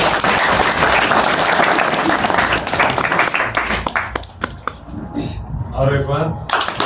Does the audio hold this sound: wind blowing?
no